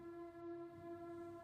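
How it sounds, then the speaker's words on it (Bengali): A train whistle holds one long, steady, tonal blast at low volume throughout, with no voice over it, used as an effect in a spooky tale about a last train. "ট্রেনের হুইসেলের শব্দে বিমলের চিৎকার যেন মিলিয়ে গেল।"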